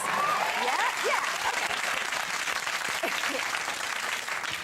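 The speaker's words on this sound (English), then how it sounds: "smattering of applause thing just worked" Scattered applause from a television studio audience, steady and fairly full throughout, with faint voices mixed in underneath.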